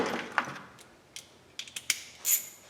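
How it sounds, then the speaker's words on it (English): A quarter-inch socket ratchet works a small bolt loose at the bottom of a classic Mustang dash, giving a few quiet, close clicks and metallic ticks spread irregularly over a couple of seconds, with no talking. "I'm using a 1/4 inch socket. I'm going to take that loose."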